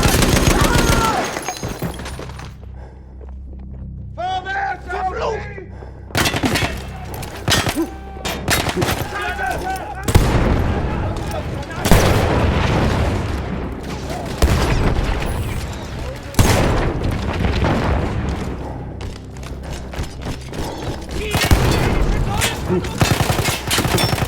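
A cannon blown up in the video game Battlefield 1, with loud booming explosions and rapid bursts of gunfire crackling almost continuously across a dense, chaotic battle soundscape.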